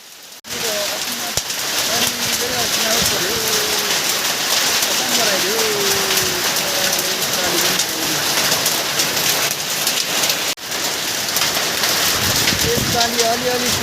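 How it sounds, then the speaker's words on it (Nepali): Heavy rain with hail pours down in a dense, loud, unbroken roar, with soft pigeon-like cooing tones drifting over the downpour. "आज विशेष गरी यसरी असिना पर्यो"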